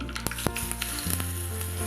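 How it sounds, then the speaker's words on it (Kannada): Asafoetida tempering sizzling in hot oil for a tamarind gojju, a steady close hiss with a few sharp pops and crackles, no voices. "ಲಾಸ್ಟಿಗೆ ಒಂದು ಇಂಗಿನ ಒಗ್ಗರಣೆ ಮಾಡಿಬಿಡೋಣ"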